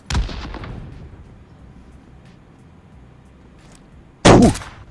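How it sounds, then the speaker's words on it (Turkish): Two loud bursts of bombing explosions in a battle royale video game, one right at the start trailing off into a long rumbling decay, then a second sharp blast near the end, with quiet background between. "Bak bu bombalamaya başladı."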